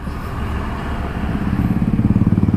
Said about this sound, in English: So let's take a turn around here